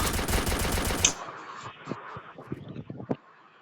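Video game gunfire during online multiplayer play, a dense burst of rapid automatic fire for about a second, then scattered fainter single shots and distant pops.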